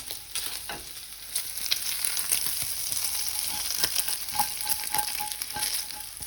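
Bacon sizzles steadily in a frying pan, a dense continuous crackle and spatter with occasional louder pops and stirring, close and alone with no talk.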